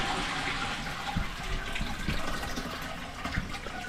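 A toilet flushes and refills with a steady rush of water and gurgling that carries on throughout, close and moderately loud.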